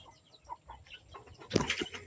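Bisaya native chickens cluck softly nearby, ending in a brief flurry of flapping wings and louder squawks.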